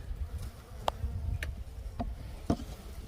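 A low, steady drone of bees clustered in new hive boxes hums throughout, close by, with a few sharp clicks or taps scattered over it.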